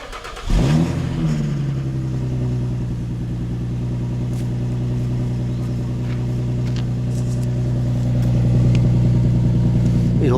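An Infiniti car engine cranks and catches, then settles into a steady, close idle rumble with a slight rise in revs near the end.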